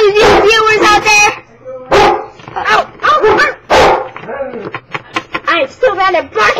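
A person imitates a barking dog with their voice, a loud, close series of yapping barks and whiny yips delivered in quick bursts with short pauses between them.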